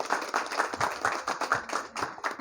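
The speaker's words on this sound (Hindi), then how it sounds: "एक बार जोरदार तालियां हमारे दादी जी और सारे बाबा जी लोगों के लिए" Applause for elderly residents at an old-age home, Swaraj Vridhashram: a small group clapping steadily and fairly close, a brisk, even patter with no talk.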